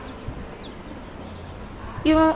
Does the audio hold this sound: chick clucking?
yes